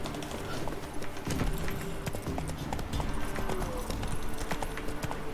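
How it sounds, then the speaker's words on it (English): A horse in The Witcher 3 gallops with a fast, steady clip-clop of hooves, close and fairly loud, with faint ambient game sounds beneath and no talk. "we're going to call our horse, who's going to appear in a nearly useful position."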